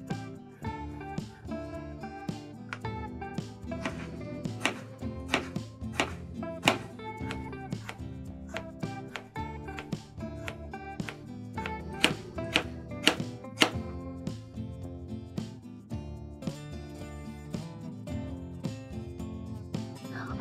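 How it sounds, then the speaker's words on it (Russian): A knife finely dices a washed cucumber on a cutting board, giving quick, steady chopping taps over background music for the whole stretch. "затем нарезаю его мелким кубиком"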